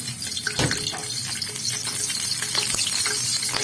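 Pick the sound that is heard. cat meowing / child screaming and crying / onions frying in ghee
onions frying in ghee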